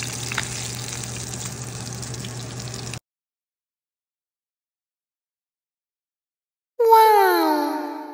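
Tilapia fries in a pan with a steady, close sizzle that cuts off abruptly, then after a silence a brief burst of bright electronic tones takes over.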